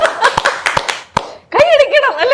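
A few quick, scattered handclaps sound close and sharp, then stop as a voice begins talking.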